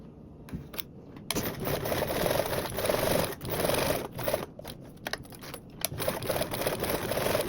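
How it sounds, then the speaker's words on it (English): A sewing machine bastes a 1/8-inch seam across the top of a fabric piece for a blanket backpack, whirring in short bursts of rapid stitching that start and stop, with clicks in between. "we're going to baste across this top with a 1/8 seam allowance"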